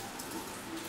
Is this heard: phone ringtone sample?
no